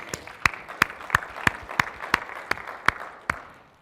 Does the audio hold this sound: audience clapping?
yes